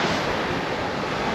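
Beaver Bay Falls, a waterfall on Minnesota's North Shore, gives a loud, dense, unbroken roar of rushing water, close and steady with no voices.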